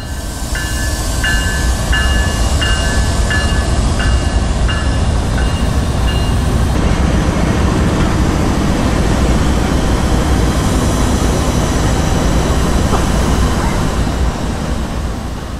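Northbound freight train M514 rolls through a rail yard, its horn sounding in a series of short repeated blasts over a loud, continuous rumble of wheels and cars that carries on steadily after the horn stops.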